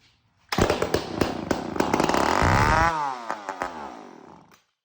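A McCulloch Pro Mac 10-10 chainsaw engine, a fuel-starved unit, fires up close and loud, runs briefly with rising revs and popping, then sputters and dies out within a few seconds.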